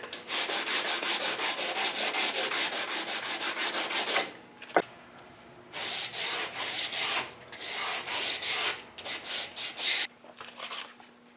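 Wooden Winchester Model 88 rifle stock sanded with a flat milled block: rapid, even back-and-forth rasping strokes, close and steady, then pausing and resuming in shorter bursts.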